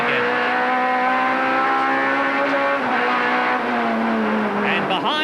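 Touring race cars, among them a BMW M3, accelerating hard through an S-bend at a 1991 British Touring Car Championship round, engines loud and close, revs rising and overlapping, with a faint tyre squeal near the end.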